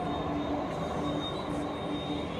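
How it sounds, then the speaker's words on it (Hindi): A metro train pulls into a station during evening rush hour, a steady rumbling roll with faint wheel squeal and high whine, close and continuous for a couple of seconds. "आ गई मेट्रो,"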